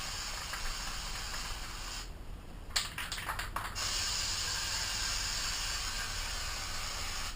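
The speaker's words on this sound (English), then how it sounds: "You're just going to want to take this and just spray it on." Cleaner is sprayed onto a Husqvarna TC 125 dirt bike air filter in close hissy bursts: a steady spray, a short pause, several quick puffs, then a longer continuous hiss.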